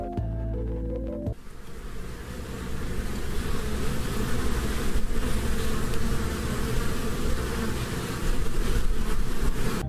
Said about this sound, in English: some buzzing in the background